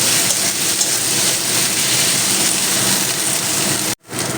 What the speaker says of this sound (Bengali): এই আদা রসুনটা কষিয়ে নিতে হবে